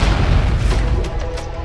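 A deep booming explosion sound effect rumbles loud and heavy through the whole moment, with a few sharper bursts toward the end.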